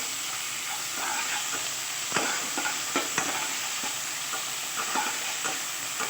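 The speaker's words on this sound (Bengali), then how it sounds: "দিয়ে ভালো করে একসঙ্গে টমেটো আর পেঁয়াজটাকে কষিয়ে নেব।" Chopped onion and tomato sautéing in a pan for a Bengali mourala fish jhal, with a steady close sizzle and scattered scraping stirs and spatula taps.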